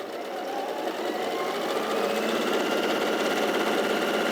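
A sewing machine stitches fabric in a continuous, even whir that builds slightly and holds steady throughout, with no talking.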